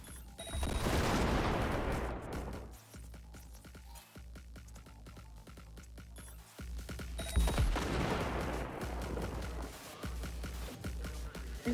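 Cyberpunk 2077 firefight: loud volleys of rapid gunfire and heavy bursts, two intense clusters of shots separated by sparser cracks.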